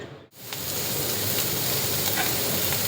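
Oil for frying onions and rohu fish belly pieces sizzles loudly and steadily in a pan, starting abruptly after a short silent gap and holding as a dense close hiss with faint stirring ticks.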